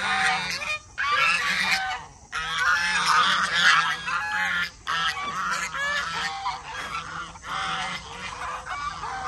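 Farm fowl, named as ducks, honk and call loudly at close range in repeated overlapping bursts with short pauses between them.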